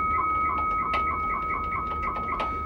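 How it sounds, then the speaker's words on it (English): Rapid warbling modem chirps alternate between two steady tones, with short bursts of data hiss pulsing rhythmically over a continuous line tone. "That's the 2 tones I'm sending, switching back and forth, and the other machine responding."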